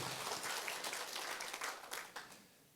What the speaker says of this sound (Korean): 바꾸신 분만 박수